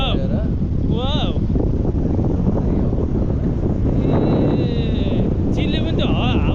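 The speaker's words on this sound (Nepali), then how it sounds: "सानो हावा छ" Wind rushes over a paraglider's microphone high above Pokhara, Nepal, a constant loud roar with faint whistling tones drifting in and out, and voices talking now and then beneath it.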